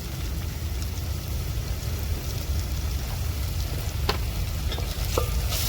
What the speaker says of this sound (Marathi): मिक्स करून घेते मी मसाला